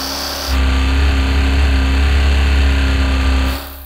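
A Porsche engine runs without oil and surges in a loud mechanical whine that rises sharply, holds at high revs for about three seconds, then drops back, with no voices over it.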